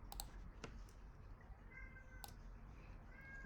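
A house cat meows softly a couple of times at close range indoors, amid scattered computer keyboard clicks.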